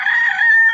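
A rooster crows in a town where chickens roam freely, a single sustained call, loud and close, heard on its own without talk.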